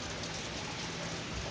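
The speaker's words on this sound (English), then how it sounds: "It's not raining that much anymore." Steady rain falls outside a house in a Mario and Wario setting, a dense continuous hiss of drops on surfaces, fairly loud and alone with no voices.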